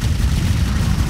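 An explosion in the game Clive Barker's Jericho gives a loud, dense, low rumbling blast that fills the whole short moment, with no voices over it.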